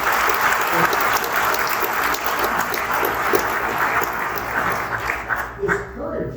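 An audience at the 2023 Town of Amherst State of the Town address gives a sustained round of applause, loud and continuous throughout, with some voices mixed into the crowd.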